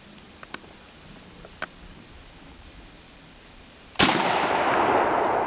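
A Mossberg 590A1 12 gauge shotgun fires a 2 3/4 inch, 9-pellet double-aught buckshot shell from 5 meters, one sharp loud blast that rings on after a few faint clicks.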